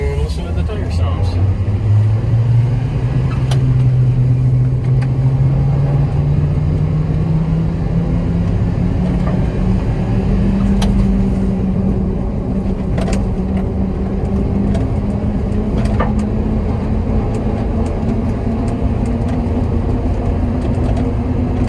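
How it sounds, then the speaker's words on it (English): Tires of a mini truck roll and rumble along a muddy dirt road during mud season, a continuous close grinding road noise under a rising and falling engine tone, with scattered small clicks and knocks from slightly unbalanced wheels. "listen to the tire sounds"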